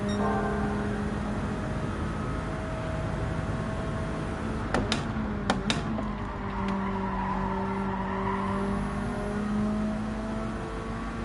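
Race car engine in the Gran Turismo 7 video game, a steady droning whine held at high revs with faint shifting pitch and a few brief clicks midway, heard alone.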